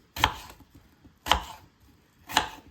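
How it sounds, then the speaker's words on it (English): Knife chopping carrots and Irish potatoes with skins on, cut rustic style: three sharp, distinct chops about a second apart, close and clear, with no talking. "we're going to chop up the carrot them and some Irish potato"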